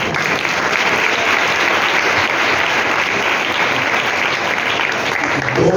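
A church congregation applauds at a sermon, with loud, dense, steady clapping filling the room throughout.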